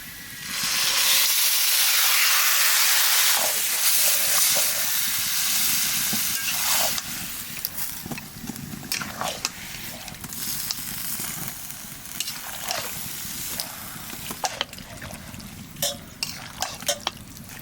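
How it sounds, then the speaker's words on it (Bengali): Marinated mutton drops into deep-red fried onions in hot oil at home for a village-style mutton curry, bursting into a loud broadband sizzle that settles into steady frying hiss with scattered crackles and pops. "পেঁয়াজটা একদম লাল লাল করে ভেজে নিয়েছি এবার মাখানো মাংসটা দিয়ে দেবো"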